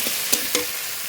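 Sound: water added to frying potatoes and spices

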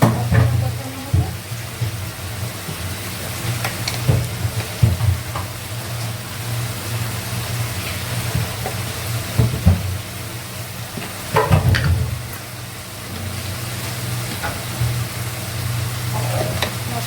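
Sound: sautéing spices and potato in a pan

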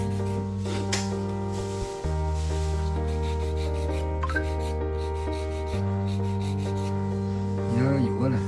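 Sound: nail file filing a nail back and forth

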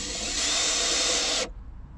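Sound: power tool driving screws into a metal bracket

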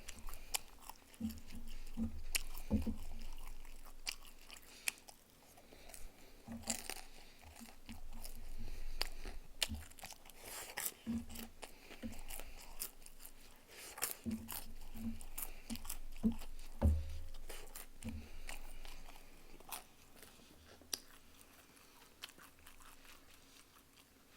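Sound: chewing Chinese food: jjamppong, jjajangmyeon, tangsuyuk

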